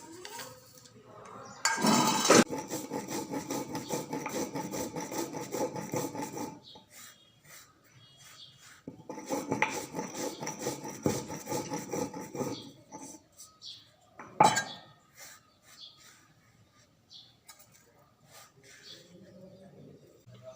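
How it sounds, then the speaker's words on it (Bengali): Roasted spices are ground into powder in bursts of gritty scraping and rasping, two long grinding passes separated by quiet gaps, with a sharp clink near the end and a person speaking at times. "এদিকে আমি ভাজা মশলাটা গুঁড়ো করে নিই"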